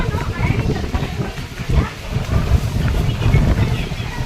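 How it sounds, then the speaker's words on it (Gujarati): Strong wind on a hilltop at Chotila buffets the microphone in gusty, rumbling bursts that rise and fall, with voices partly under the roar. "પવન અહીંયા તમે જોઈ શકો છો કેટલો પવન આવે"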